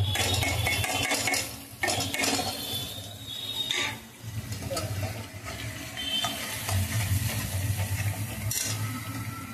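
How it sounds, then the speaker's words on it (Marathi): Dry spices are stirred into an onion-tomato mixture frying in a pan for a sprouted moth bean curry. A close steady sizzle runs under repeated scraping and clinking of a spoon against the pot, briefly dipping twice. "आता आपण या स्थितीलाच आपण याच्यामध्ये हे जे सुके मसाले आहे हे सुके मसाले यामध्ये टाकून घेऊ"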